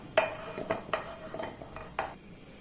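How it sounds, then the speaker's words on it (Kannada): Cut jackfruit seed pieces tumble into a steel mixer jar, making a few sharp clinks and rattles spread over a couple of seconds, close and fairly quiet, with no talking. "ಇವಾಗ ಇದನ್ನು ನಾವು ಮಿಕ್ಸರ್ ಜಾರಿಗೆ ಹಾಕಿಕೊಳ್ಳೋ"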